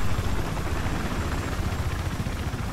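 Helicopter in the Battlefield 4 Siege of Shanghai Rush match, a continuous close rotor thrum and engine whine, steady and loud with no talking over it.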